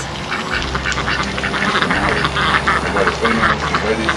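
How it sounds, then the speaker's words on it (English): Ducks quack repeatedly in a busy, overlapping chorus at the water's edge, near and loud, with a person's voice faintly mixed in beneath the calls. "So I guess you could come out here and feed the ducks."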